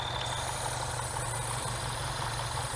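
A BMW engine with a faulty PCV valve diaphragm idles steadily, a constant low hum with a faint thin whistle held over it throughout.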